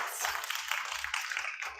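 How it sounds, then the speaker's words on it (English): A small audience at a horse grooming meetup claps for a guest speaker, producing a steady, moderately quiet patter of hands with low thumps underneath. "I would like a little applause for Amanda because she's amazing"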